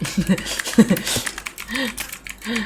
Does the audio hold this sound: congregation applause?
no